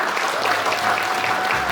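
Audience applause at the closing ceremony of a short film festival, steady dense clapping throughout with a faint voice briefly under it.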